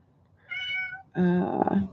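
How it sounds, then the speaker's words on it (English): A cat meowing to be let inside, two plaintive calls close by, the second louder and longer, with the start of a third at the end and no talk over them. "Oh, the cat wants to go in."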